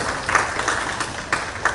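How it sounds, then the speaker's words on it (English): Applause from a conference audience for three presenters at a trade and investment event, heard as a short, thin patter of scattered claps with a few sharper individual hits. "let's give our three presenters a round of applause."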